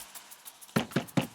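Knocking on a door: three sharp, firm raps in quick succession near the end, loud and close, preceded by faint lighter tapping, with no voices.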